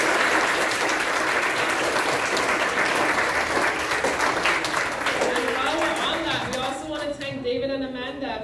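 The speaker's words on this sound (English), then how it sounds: "So I want to ask one more time your applause for him." An audience in a school auditorium claps for a guitar player, with dense sustained applause that continues loud throughout before a voice begins speaking over it near the end.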